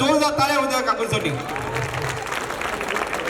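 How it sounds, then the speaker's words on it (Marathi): An audience applauds a senior woman performing a gondhal, a sustained patter of clapping from many hands that rises after a voice over a loudspeaker and carries on to the end. "एकदा जोरदार टाळ्या होत्या काकूंसाठी।"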